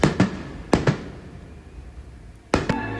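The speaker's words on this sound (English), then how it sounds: "Gotta love the fireworks. Disney has the best fireworks." Three loud firework bursts boom close by at sea from a Disney cruise ship, each followed by a crackling echo that fades, with a quiet pause between the second and third.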